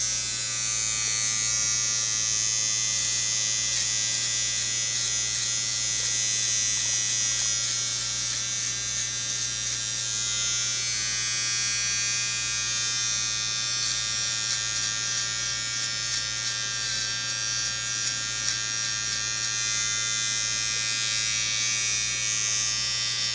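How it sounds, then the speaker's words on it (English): Electric clippers buzz steadily and close while shaving hair from a Schipperke dog's tail, a continuous hum with no pauses and no talking. "And we're going to shave off the hair."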